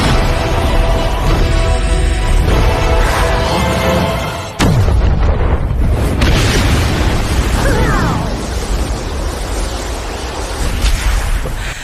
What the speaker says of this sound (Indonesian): setelah ledakan yang amat sangat dahsyat